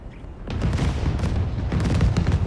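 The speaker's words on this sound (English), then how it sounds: "the skies above New York are illuminated by fireworks twinkling in various shades of red, green, and gold" Fireworks burst over New York in the Marvel's Spider-Man 2 video game, a sustained run of deep booms and crackling pops that rolls on loudly with no voices.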